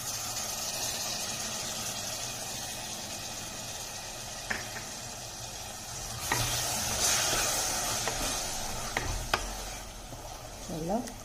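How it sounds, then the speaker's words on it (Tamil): Masala for mealmaker (soy chunk) biryani sizzles steadily in a pan while a spoon stirs and scrapes it, with louder stirring bursts partway through. A brief voice is heard near the end. "இந்த மசால் வாசனை கொஞ்சம் போகிற அளவுக்கு நல்லா பிரட்டி விட்டுக்கலாம்."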